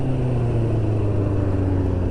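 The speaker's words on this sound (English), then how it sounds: "Can't beat Hulk on acceleration" A Suzuki GSX-R750 motorcycle pulls hard on a night ride, its engine a loud, steady, close drone with a strong low hum and constant wind rush, no voices.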